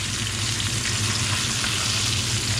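Fish fries in a pan with its tail crisping, giving off a loud, dense and unbroken sizzle heard up close without any talking.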